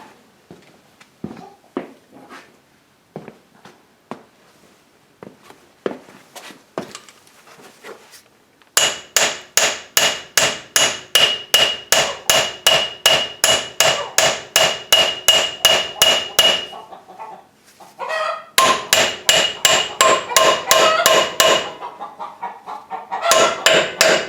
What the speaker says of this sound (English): get a hammer now and drive that back in.